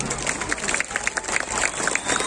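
Applause from an outdoor crowd at a governor's inauguration of a public park in Bali, steady clapping spread across the whole stretch at moderate loudness, with faint voices mixed in.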